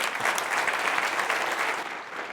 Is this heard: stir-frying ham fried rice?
no